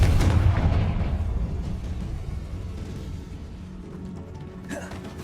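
The Confringo blasting curse explodes in Hogwarts Legacy inside a tomb. A loud, close, booming blast hits at the start and then rumbles away into a long fading tail.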